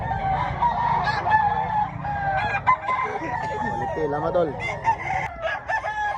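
A rooster crows repeatedly amid a crowded chicken expo in Mantalungon, Barili, Cebu, with other fowl calling and honking around it and someone talking throughout.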